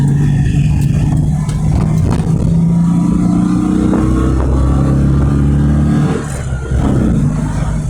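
A 1986 Citroen Acadiane van drives round a roundabout, its small engine droning loud and close from inside the cab, pitch shifting as it changes speed, with some rattles and a brief dip near the end.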